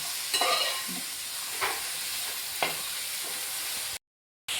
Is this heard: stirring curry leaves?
yes